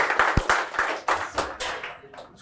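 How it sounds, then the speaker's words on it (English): Scattered applause from a small audience greets a guest coming on stage, a few distinct claps and short bursts of hand clapping that quickly die away, moderately quiet. "A big round of applause, guys, for Saurabh."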